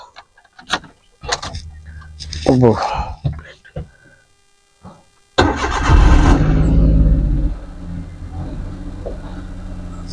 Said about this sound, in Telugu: కార్లో అయితే స్టార్ట్ చేస్తున్నాను